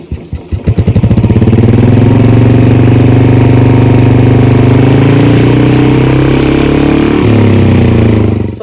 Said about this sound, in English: the difference in sound between the stock exhaust and the pea shooter exhaust